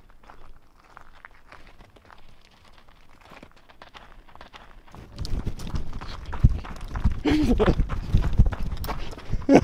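Hooves of wild horses pound on the ground as they run closer by a river, a quiet stretch giving way to a loud, busy thudding and rustling in the second half.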